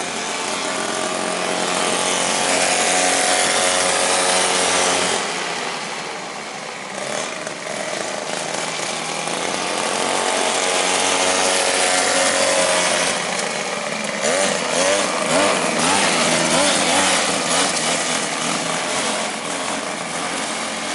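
A 1934 Ford Coupe hot rod engine drones loudly while cruising, a sustained buzzing roar that dips briefly partway through and then climbs back, rising and falling with the throttle.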